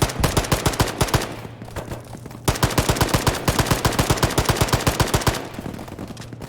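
Rapid automatic gunfire rattles in long bursts during a large multiplayer Arma battle, loud and close, with a brief pause between volleys and no talk over it.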